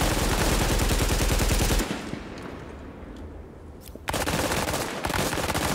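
Sustained automatic gunfire in the Tom Clancy's The Division video game, a dense, loud rapid rattle that cuts off into a brief lull with scattered shots, then resumes at full intensity, with no talking.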